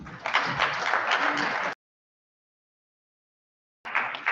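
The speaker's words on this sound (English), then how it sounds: "If you know you honestly said that prayer, you can clap for yourself." An audience claps after a prayer at a political gathering, a dense burst of applause that cuts to silence midway and then resumes briefly.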